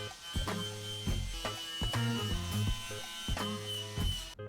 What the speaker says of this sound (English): Now time for the wire brush.